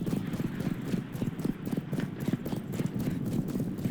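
Horses galloping in Mount and Blade Bannerlord II, a steady rapid clatter of many hooves from mounted horsemen, continuous and fairly loud with no voices.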